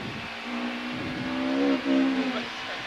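A BMW touring car from the 1992 British Touring Car Championship drives at speed, its engine note steady and loud with a rising, revving pitch and a brief lift near the end, heard alone.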